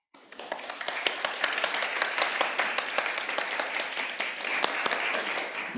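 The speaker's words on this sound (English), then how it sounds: "let's give Tobias another round of applause" Steady applause from a crowd, dense clapping that swells quickly and holds at an even level throughout.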